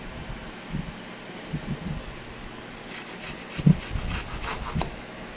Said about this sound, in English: I'm using a fine tooth hacksaw.